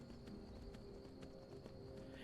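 Rhythmic horse hooves clip-clopping in the video game Skyrim, evenly spaced sharp strikes over a steady ambient game background, moderately near.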